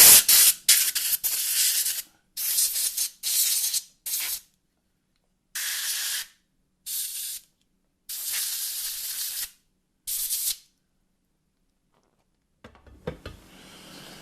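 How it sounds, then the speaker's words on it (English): Compressed air from a compressor set at 40 psi blasting debris out of a Walther P22CA pistol, heard as a string of loud hissing spray bursts of varying length separated by silences, followed by faint handling noises at the end. "I've got this air compressor set at 40 psi"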